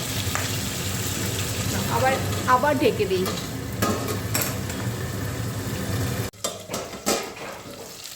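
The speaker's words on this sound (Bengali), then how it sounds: "এই যে দেখো মাছগুলো ভাজা হয়ে গেছে" Boal fish fries in hot mustard oil in a wok, a steady close sizzle broken by scraping stirs and a lid clatter before it goes quieter, while a person speaks over the cooking.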